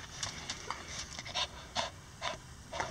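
A dog pants close by in quick, rhythmic bursts of breathy huffs, repeated steadily for the full length with no talking.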